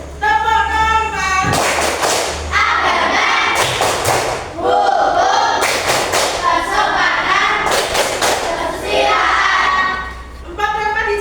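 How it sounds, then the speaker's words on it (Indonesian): A class of students performs the rhythmic 'tepuk norma' clapping chant in a classroom, with loud, sharp clap bursts in patterned sequences interleaved with children's chanting voices, close and full. "Oke ya, 1, 2, 3, tepuk norma."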